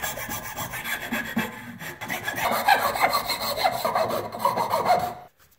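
Steady rasping of a file worked back and forth over the edges of a small wooden whistle in a school production lab, continuous rubbing strokes close by for about five seconds, stopping abruptly at the end; no talking.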